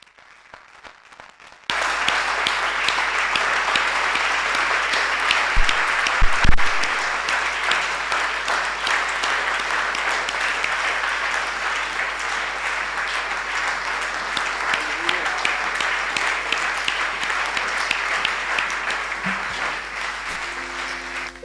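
A church congregation applauds the Lord in sustained, dense clapping that starts abruptly and holds steady and loud for about twenty seconds, with no talk over it.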